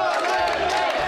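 A large crowd at a political gathering shouts and cheers loudly and continuously, a dense wall of many voices.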